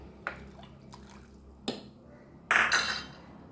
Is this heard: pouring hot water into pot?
yes